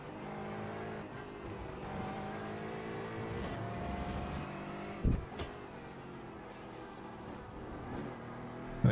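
Race car engine lapping Virginia International Raceway in a sim racing game, a steady loud harmonic drone with shifting revs throughout and a couple of sharp knocks near the middle and end.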